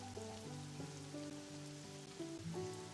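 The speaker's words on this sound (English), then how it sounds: "As far as just itty bitty sprinkles of the rain." Light rain patters steadily in the Pokemon Pokopia video game, a soft continuous hiss of small drops under a layer of sustained musical tones, with no talking.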